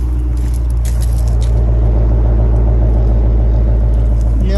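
A 2020 Ford Mustang's naturally aspirated 5.0 V8 with its exhaust in sport mode rumbles at a steady deep idle, loud and close, with a brief rising note near the end.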